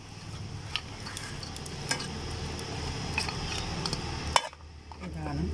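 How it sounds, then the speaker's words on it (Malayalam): Chicken pickle made with plain vinegar is stirred in a pot, producing a continuous close sizzle and scrape with occasional metallic clinks of the utensil against the vessel, and the scraping stops abruptly near the end. "നമ്മൾ നല്ല വൃത്തിക്ക് അത് ഇളക്കി"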